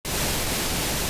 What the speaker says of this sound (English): I generated a sound wave using Q-based test generator. Just a plain pink noise.